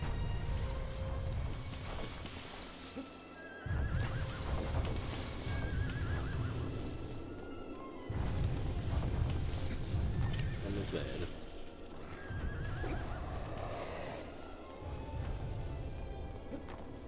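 Horse whinnies ring out several times in the video game Shadow of the Colossus on PlayStation 3, over a busy, continuous background, with a person talking throughout.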